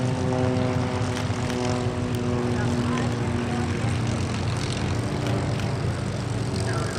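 A World War II P-51 Mustang propeller fighter flies at an airshow, its engine a steady, loud, droning roar that holds throughout.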